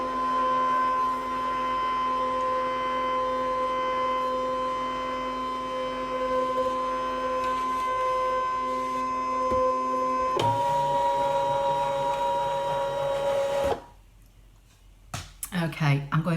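A Brother ScanNCut machine direct-cuts a stamped greeting card, a steady close mechanical hum with tonal motor whine that shifts in pitch, then cuts off into near silence with a few brief clicks and handling noises.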